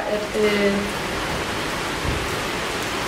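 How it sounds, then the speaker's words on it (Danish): Heavy rain pouring down outdoors, a dense steady hiss of drops throughout with a short voice near the start. "Det pisser ned nu, sådan virkelig meget."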